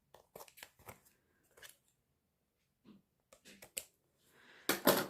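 Scissors snip off the excess ribbon on a handmade paper pop-up card: a few sharp, separate cuts close by, with quiet gaps between them and a louder rustle of paper at the end.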